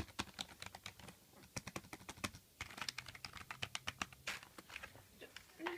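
Rapid keystrokes on a Razer DeathStalker Expert keyboard, a steady run of crisp, close clicks with uneven rhythm, with faint speech murmuring underneath.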